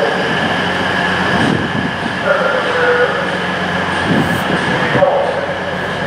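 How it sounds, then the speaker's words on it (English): A train stands at a station platform on a main line toward King's Cross, giving a loud, steady rumble and hum of idling rail equipment with faint clanks and hisses throughout. "And this is our train here that we've just used."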